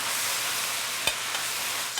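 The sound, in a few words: food frying in pan with sesame oil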